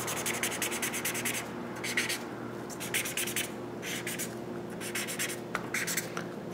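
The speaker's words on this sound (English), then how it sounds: "get a gray marker like this out, which has a nice chisel tip like this that will cover up an area pretty fast" A gray chisel-tip marker shading over paper, making soft repeated scratchy strokes in quick rhythmic bursts against a steady room hum.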